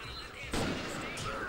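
Sniper rifle shots in the video game Second Sight: one sharp, loud blast with a brief crack and a lingering tail, followed by a fainter second report, with game sounds underneath.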